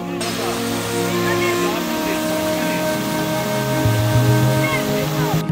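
Rushing waterfall in Kodaikanal, a steady broadband roar of falling water filling the whole clip with no break, close and fairly loud.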